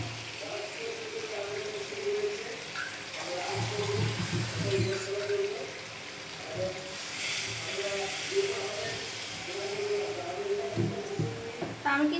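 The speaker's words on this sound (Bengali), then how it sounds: "তো এই মুহূর্তে আমি পানি দিয়ে দিব।" Water is poured into a pot of red-meat chicken cooking on the stove. A splashing, gushing burst is heard partway through, while a person talks over most of the scene.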